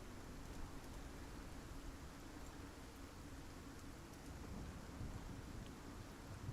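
A thunderstorm in the game Icarus brings steady, dense rainfall as a continuous hiss over a low rumble, quiet and unbroken throughout, with no voices.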